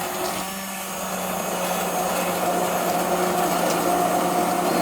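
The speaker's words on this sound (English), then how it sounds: "All that seafood is being chopped up into tiny pieces" A blender chops seafood for a bisque, alongside onions, garlic and carrots, giving a loud, steady motor whir with a rough churning texture that holds unbroken throughout, with no voices.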